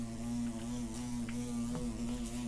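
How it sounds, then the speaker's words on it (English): A loud, steady electrical buzz aboard a ship in Escape The Endless Dogwatch, an unbroken low hum with faint rattles over it, no talk. "I hear an unexpected noise. Loud buzzing?"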